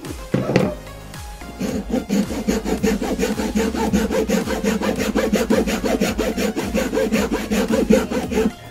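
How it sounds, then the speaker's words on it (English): A hacksaw cuts through the plastic parts of a hot glue gun in fast, even back-and-forth strokes, loud and close, after a few short scrapes at the start. "I'm going to just give it a go with a hacksaw and see if I can chop these bits of plastic"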